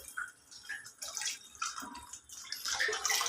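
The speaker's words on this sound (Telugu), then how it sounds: "నేను ఏంటి చింతపండు గుజ్జు ఈ గుజ్జు పోసేయచ్చండి ఇందులో" Strained tamarind pulp pours from a container into a pot of punukula curry, a soft irregular splashing and trickling of liquid, close but fairly quiet, with no one talking.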